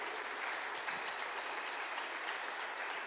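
Applause from a church congregation during a service, a steady dense wash of clapping that holds evenly throughout without voices on top.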